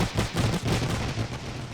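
Machine guns rattle in a World War I era video game battle between the Russian Empire and the Red Army, a short continuous stretch of rapid, overlapping shots.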